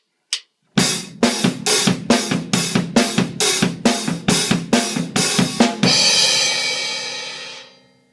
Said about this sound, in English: A driving straight ahead rock beat in my opinion, but it's called the indie rock feel.